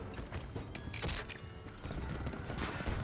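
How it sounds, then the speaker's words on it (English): An SVD sniper rifle reloads in a shooter game: a run of metallic clicks and clacks, a sharp mechanical snap near the middle, then rattling handling noises over a low steady game background. "I'm reloading."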